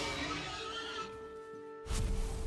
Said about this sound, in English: the sounds that deer make are ridiculous